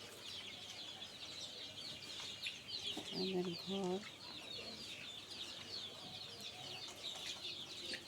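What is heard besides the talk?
Australorp chickens clucking while eating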